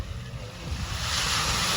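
Sea waves washing onto the beach at Portsmouth, a steady close roar of surf with rumbling wind noise on the microphone, swelling slightly louder toward the end.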